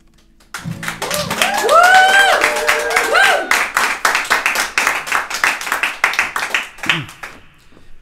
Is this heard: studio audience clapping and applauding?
yes